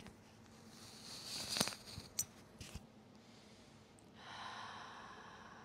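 Deep breathing during a guided meditation, soft close inhales and exhales with a sharp snort-like intake, faint and intimate against a quiet room.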